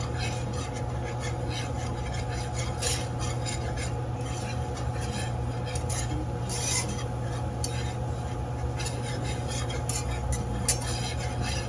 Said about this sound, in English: It's 3 tablespoons butter, so about 3 tablespoons flour. And we're just going to make a roux.